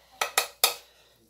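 A metal pressure cooker set down on a stove, giving three sharp close metallic clanks in quick succession, each ringing briefly before fading into quiet.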